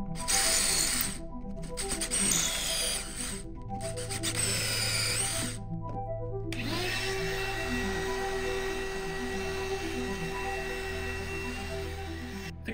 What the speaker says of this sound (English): And then go ahead and drill through here now.